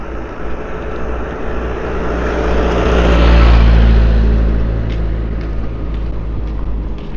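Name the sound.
cars driving on a street in Qatar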